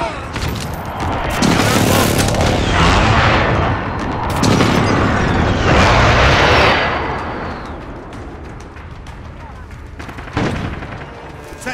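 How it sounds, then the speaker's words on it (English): Airstrike blasts in a Modern Warfare team deathmatch, a chain of loud booming explosions and gunfire rolling over several seconds with a fresh burst near the end, voices calling out over the battle. "Airstrike, get down!"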